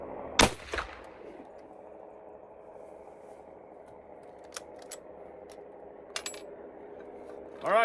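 A Sako Finnbear rifle chambered in 30-338 fires a single loud, sharp shot near the start, with a brief echoing tail, followed by quiet outdoor ambience and a few faint clicks of handling near the end.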